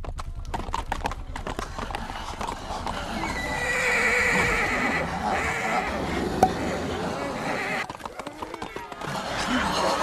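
A horse in The Walking Dead season 1 episode 1 neighs in a long, wavering whinny amid hoof clops and commotion, loud and close, with voices mixed in.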